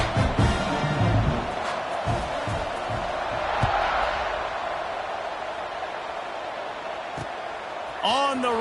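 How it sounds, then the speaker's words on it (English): A packed football stadium crowd keeps up a loud, steady roar for the whole stretch, a broad wash of voices swelling a little in the middle, with an announcer talking over it. "this crowd is buzzing after that last score"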